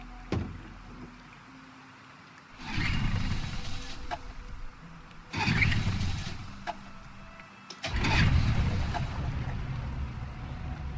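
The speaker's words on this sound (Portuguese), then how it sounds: "Vou ligar o motor." A boat motor starting in Detroit: Become Human, with the engine catching and revving in three loud, rumbling bursts separated by quieter pauses and water noise.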